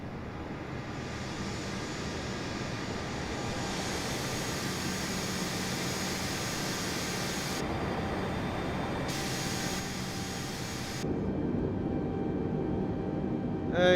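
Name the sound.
Qantas Airbus A320 in Microsoft Flight Simulator video game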